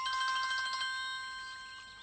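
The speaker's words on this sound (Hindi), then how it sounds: "अरे फोन है।" A mobile phone ringtone chimes indoors in a dramatic film scene, a bright electronic melody that is close at first and then fades slightly over two seconds.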